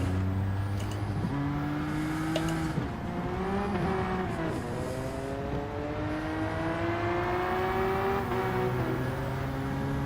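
Race car engines drone and rise in pitch as they accelerate around the track in Gran Turismo 7, several overlapping engine tones whining steadily at a moderate distance with no talk.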